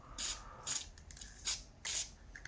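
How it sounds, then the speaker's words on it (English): Four short hissing bursts of lubricant spray directed into a weathered mechanical keypad gate lock, evenly spaced and fairly close, with quiet pauses between them. "Just a little bit of spray, especially inside,"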